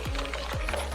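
A utensil stirs chocolate cake batter in a bowl, scraping in two rhythmic, ratcheting strokes against a steady background whir.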